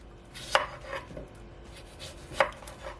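A knife chops through cucumber on a board in two crisp, separated strikes with a quieter tap between, close and clear with no talking.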